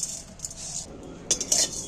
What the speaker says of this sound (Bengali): আমি এটা একটু শুকনো খোলায় ভেজে নেবো নাড়াচাড়া করে